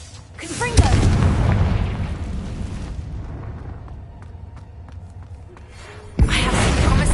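A Confringo fire spell from the game Hogwarts Legacy, a loud booming blast with rumbling debris that fades over a few seconds, then a second sharp burst near the end, with no talk over it.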